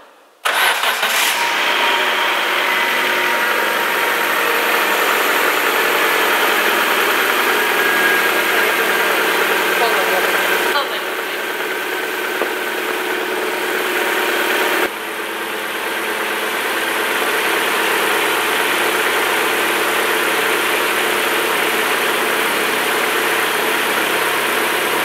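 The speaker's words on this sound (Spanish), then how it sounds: "el motor suena súper bien" A car engine, just fitted with new connecting rod bearings, starts and settles into a steady, smooth idle, a continuous close mechanical hum with broad noise that stays even throughout.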